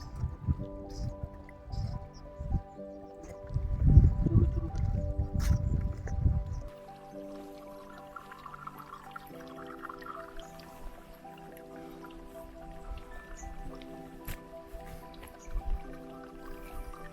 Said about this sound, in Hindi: बूंद बूंद करके आ रहा था पानी